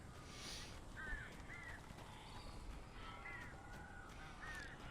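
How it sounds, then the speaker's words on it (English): Crows caw in the Alan Wake video game, several harsh calls spaced irregularly across the stretch, moderately distant over a steady outdoor ambience with no talking. "Yeah, a lot of birds up here"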